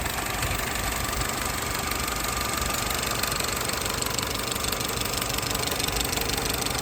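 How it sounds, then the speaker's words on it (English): A Vauxhall Zafira, registration KR57 WME, idling with a slightly rattly engine: a steady, close mechanical drone with a constant ticking clatter and no change in pace throughout, with no voices. "It's a little bit kind of rattly in here."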